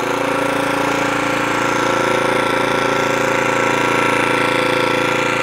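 A HEOMAITO 4300-watt dual-fuel inverter generator runs steadily at close range, a continuous even drone with a low, regular putter and no change in pace.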